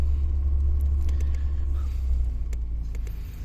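A Citroën BX 16RS Break Phase 1 estate car is driving, its engine and road noise a steady low rumble heard from inside the cabin, constant and fairly loud with no voices.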